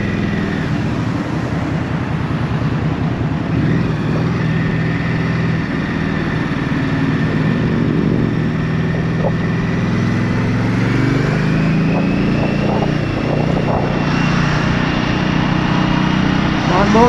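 An Indian Scout Rogue motorcycle cruises on a highway, its engine a steady, continuous drone mixed with wind rush, holding a fairly even level across the whole ride.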